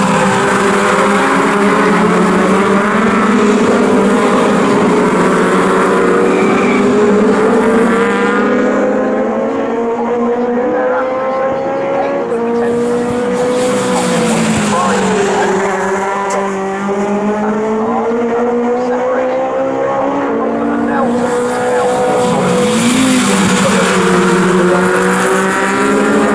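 A pack of Legends cars racing at Snetterton in a national championship heat, loud engines whining and rising and falling in pitch as they rev through gears and sweep past, continuous and close.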